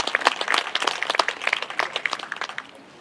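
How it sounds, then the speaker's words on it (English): Brief audience applause breaks out as scattered, distinct hand claps that stay close together and fade toward the end, lasting only a few seconds. "So please give that a round of applause."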